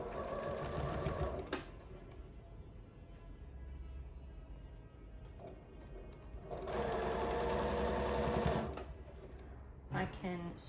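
A sewing machine stitching quilt block pieces runs in short bursts, a fast rhythmic mechanical whir that starts and stops several times, close up, while someone talks quietly over it between runs.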